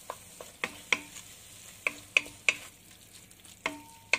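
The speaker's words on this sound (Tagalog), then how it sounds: "So, haluin." Tochong bangus, milkfish simmering in fermented soybean and tofu sauce, being stirred in a pan: sharp, spaced clinks and scrapes of a utensil against the pan over a low bubbling simmer, close up with no talk.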